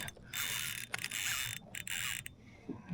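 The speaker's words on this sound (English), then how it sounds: "this reel sounds good" A rapid mechanical clicking runs in bursts with short gaps, the drag of a KastKing Al-Ti Elite baitcasting reel ratcheting as line pulls out while fighting a saltwater fish, close and fairly loud.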